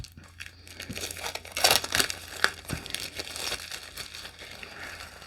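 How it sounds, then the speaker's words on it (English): Plastic wrap peeled off a new Soha Mystic tarot deck crinkles and tears steadily up close, a busy continuous rustle with a few sharper rips and no one speaking. "let's take these annoying plastic coverings off"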